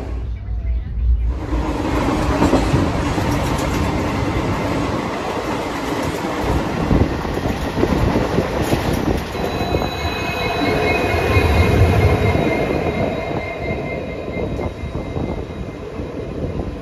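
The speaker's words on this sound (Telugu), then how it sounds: "ఒంగోలులో 5:11 అయితే స్టార్ట్ అయింది ట్రైన్." A Puri–Tirupati Express rolls along the rails after departing Ongole, with a steady loud rumble, rhythmic wheel clatter and a thin high wheel squeal running throughout, close and continuous.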